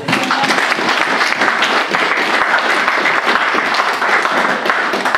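A congregation at a Christian worship service breaks into loud, dense applause, clapping continuously for several seconds with faint voices mixed into the crowd noise.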